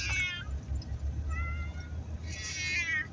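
Several cats meowing on the way to the vet, a loud close yowl at the start, softer meows in the middle and a long drawn-out cry near the end, with no talking.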